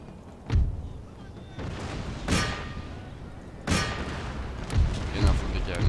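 Cannon fire rings out on a Napoleonic-era battlefield in the Empire: Total War strategy game, a series of about five heavy booms at irregular intervals, each with a sharp crack and rumbling tail, over steady battle noise.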